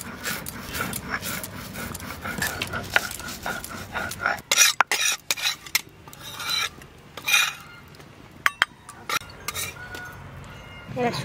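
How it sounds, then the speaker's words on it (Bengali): Coriander seeds being ground into powder on a grinding stone for a village duck curry, heard as close, uneven rasping and scraping strokes with brief pauses and a few sharp knocks, under occasional talk. "এবার ধনেটা গুঁড়ো করবো"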